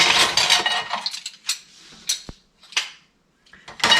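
Aluminium plate and Trangia camping cookware clinking together in a handful of bright metallic knocks and rattles, close and irregular, separated by short quiet gaps.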